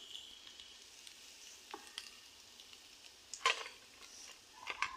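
Meat pakoras sizzling and frying in hot oil, a faint steady crackle with a few louder pops and spatters, quiet and close, with no talking.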